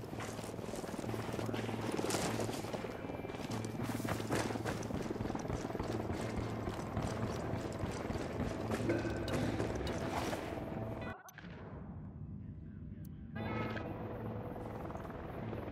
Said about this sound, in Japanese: ユニダットのヘリが来る。 身をかがめろ。